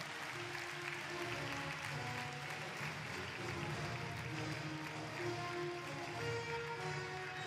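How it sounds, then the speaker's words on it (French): A crowd at a show jumping championship applauds the winner with sustained, dense clapping that stays fairly faint and even throughout, heard from a distance with no clear talk. "Vous pouvez renouveler vos applaudissements."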